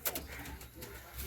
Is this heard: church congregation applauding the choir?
no